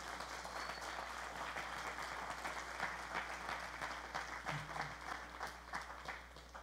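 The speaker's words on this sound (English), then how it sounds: "That's the time to clap right there" Sustained applause from a church congregation, steady and fairly loud throughout, with no talking over it.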